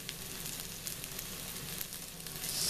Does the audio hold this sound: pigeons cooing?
no